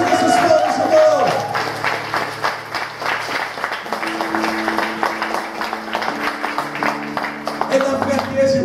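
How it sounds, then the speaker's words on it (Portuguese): A church congregation at a youth sermon claps loudly and steadily, the dense applause rolling on alongside music and raised voices. "Aplauda Jesus mais uma vez."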